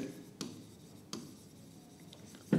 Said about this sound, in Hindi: क्वेश्चन लिखेंगे